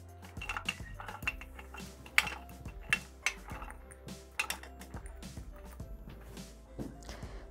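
Zucchini pieces tumble into a Thermomix TM6 bowl fitted with the butterfly whisk while making risotto with zucchini flowers: a run of close, light knocks and clinks scattered irregularly over several seconds, with no voices.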